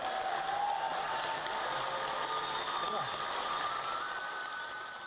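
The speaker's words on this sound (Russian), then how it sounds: "Зрители не скрывают эмоций, стоя аплодируют такому решению." A theater audience applauds on its feet at an event in Bashkortostan, a steady, fairly distant wash of clapping that holds evenly throughout.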